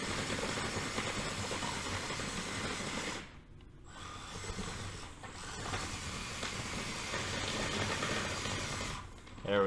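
Furitek Lizard brushless motor in an SCX24 RC crawler climbing a hill, a steady close whine and gear rattle that continues with few breaks, cutting out briefly twice.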